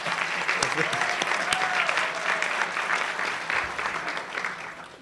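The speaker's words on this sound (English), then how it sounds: "can we give a round of applause to the people who've known me from the beginning?" A luncheon crowd at the National Press Club claps for the mayor's parents, a full, steady round of applause with a few sharp standout claps and a brief voice mixed in, tapering slightly toward the end.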